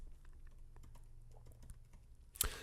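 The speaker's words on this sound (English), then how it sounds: "we're just going to start typing node modules" Keys tapped on a computer keyboard while coding, a soft, irregular patter of quiet clicks with one sharper, louder keystroke near the end, with no voices.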